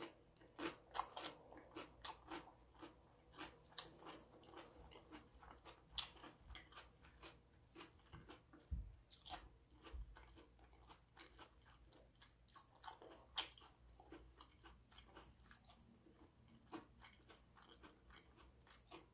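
Someone bites and chews stuffed paprika cups filled with sweet potato, a close series of soft, moist crunches and chewing sounds repeating irregularly in an otherwise quiet room.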